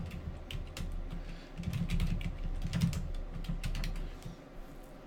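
Computer keyboard being typed on in a quiet room, a rapid irregular run of soft clicking keystrokes with brief pauses, close and alone.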